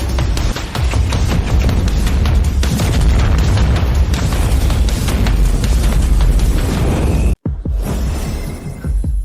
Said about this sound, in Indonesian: Meriam utama isi daya uapkan mereka langsung menjadi debu kosmis.